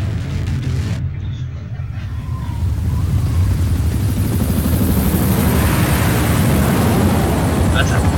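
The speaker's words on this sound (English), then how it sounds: "That's a nice looking chopper." A helicopter in Metal Gear Solid V: Ground Zeroes, heard as a steady, loud rotor and engine roar that swells slightly and holds.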